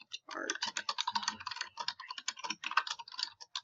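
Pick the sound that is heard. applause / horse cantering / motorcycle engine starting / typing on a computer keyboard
typing on a computer keyboard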